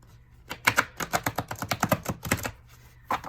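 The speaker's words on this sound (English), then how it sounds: "Let me shuffle." Tarot cards being shuffled at close range, a quick run of crisp riffling taps and flicks in a fast irregular rhythm, with a short pause before a final burst, no talk over it.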